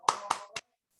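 Three sharp, close claps from a class in a rhythmic clapping routine land in quick succession, followed by a short silence.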